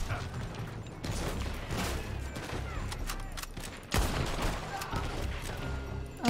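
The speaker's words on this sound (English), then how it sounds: "They're shooting from that building." Rapid gunfire pours from a building in the western video game Red Dead Redemption 2, a dense volley of overlapping shots at moderate volume, with faint voices underneath.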